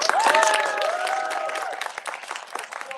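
An improv show audience claps in a brief burst of applause, dense at first and thinning out over a few seconds, with a faint whistle near the start.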